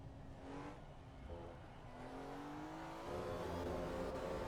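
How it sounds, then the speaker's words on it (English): A naturally aspirated BMW E46 M3 straight-six revs hard in Assetto Corsa EVO at the Nürburgring, its loud, steady engine note climbing in pitch through the gears with no voices over it. "It's that straight six, naturally aspirated power"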